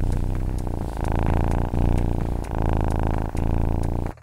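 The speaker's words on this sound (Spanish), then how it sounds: "El ronroneo de los gatos comienza en sus primeros días de vida" A cat purrs steadily and close, a low rumbling drone with rhythmic pulses and brief dips as it breathes, running on its own without talk.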